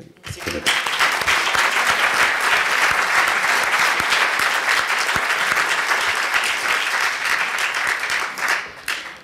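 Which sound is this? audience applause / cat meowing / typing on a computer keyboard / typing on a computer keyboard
audience applause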